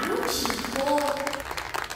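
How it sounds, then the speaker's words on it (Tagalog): Teachers and classmates at a school stage applaud a student, a mixed patter of clapping with tonal background music running through it, fading slightly toward the end. "pinalakpakan ng mga guro at kamag-aral si Yasmin"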